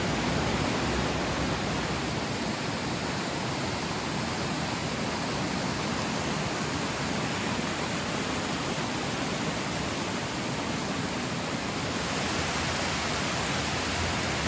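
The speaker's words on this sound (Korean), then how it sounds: "웬만한 계곡 저리 가라 할 정도의 물기가 쏟아져 내려오고 있고요" Inside a cave, water gushes down in a loud, unbroken roar that fills the space like a valley torrent and holds steady all the way through.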